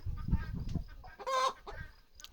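Chickens in a coop cluck and murmur close by, with a short series of low clucks followed by a louder, higher squawk in the middle and a few quieter clucks after, no people talking.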